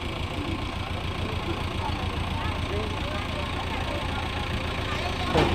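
Several tractors idle on a road as they make way for an ambulance, producing a constant low engine rumble that fills the scene while people talk over it.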